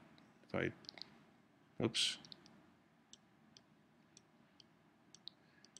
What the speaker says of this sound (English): I double click on this and select everything in here